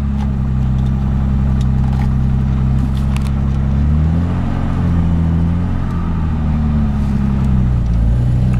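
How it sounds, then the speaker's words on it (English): A 1966 Jaguar car engine runs with a deep, steady throb, rising briefly in a mild rev midway before settling back to an even idle. "Motor sounds real nice."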